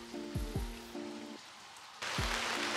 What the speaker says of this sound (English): we had our first real rain of the season.